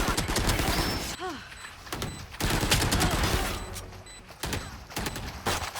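Bulldog rifle fire in Valorant, sharp rapid bursts of gunshots in several volleys with brief gaps, close and loud, with a faint voice underneath.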